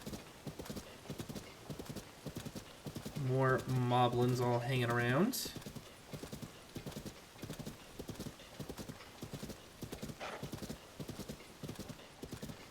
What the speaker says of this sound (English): More horses, good to know.